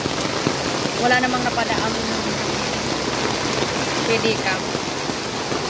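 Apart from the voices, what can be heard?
heavy rain falling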